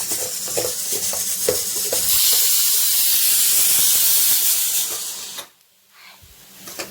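A pressure cooker cooking lentils for payasam lets out a loud, steady steam hiss that holds for a few seconds and then cuts off abruptly, with faint kitchen clatter before and after.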